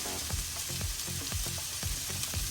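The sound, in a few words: chicken sisig with onion cooking in a pan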